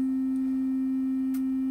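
A steady pure sine resonance tone from a Schräg filter, a Bastl Cinnamon clone, holds one unwavering pitch throughout, loud and alone, with a couple of faint clicks.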